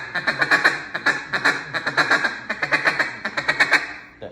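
Rapid series of short, clipped single-cut quacks from a duck call, sounded in quick staggered bursts with slight pauses between groups, close and loud.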